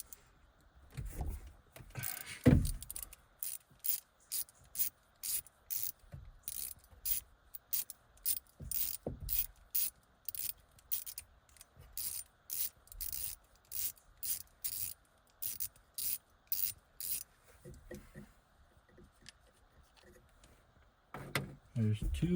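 A ratchet wrench works bolts loose on an NV4500 transmission from a 2001 Dodge Ram 2500, a long series of quick, crisp clicking bursts repeating in a steady rhythm, with someone speaking at points.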